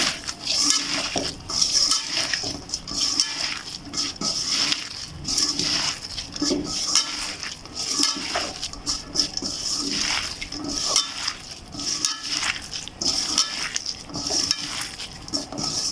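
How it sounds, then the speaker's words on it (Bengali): Ginger-garlic paste and soybean oil squelch and smear as they are mixed by hand, probably in a bowl of grated potato, with steady wet rubbing and small clinks throughout, close and moderately loud. "এখন হাত দিয়ে সুন্দর করে মেখে চেখে নেব।"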